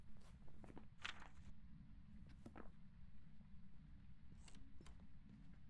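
Ghost footsteps in the horror video game Phasmophobia: a few faint, scattered thuds over a low rumbling background, quiet and intermittent.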